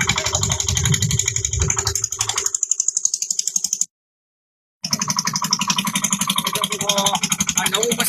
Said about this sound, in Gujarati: આ નવું મશીન છે ચાલુ થઈ ગયું છે